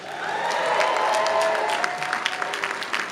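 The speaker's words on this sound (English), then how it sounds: "let's take it around again for our grand applause for all of our award winners" An audience applauds at a 2018 Texas MBA commencement ceremony, steady dense clapping with a few cheers, sustained and fairly loud, tapering slightly toward the end.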